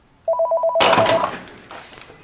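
An old-style telephone bell rings in a short rapid trill, then a loud clunk cuts it off and leaves a brief rattling tail, all close and with no talking.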